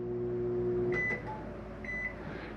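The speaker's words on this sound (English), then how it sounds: "Self-explanatory microwave." Microwave oven inside a 2024 Jayflight 284BHS travel trailer, giving a steady low hum that stops, followed by a few brief high beeps near and clear.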